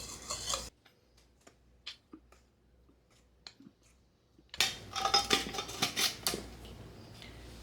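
Powdered gravy mix poured and shaken into a storage container while preparing camping breakfast supplies, heard as a dense granular rustle and scraping that swells after a quiet stretch of faint clicks.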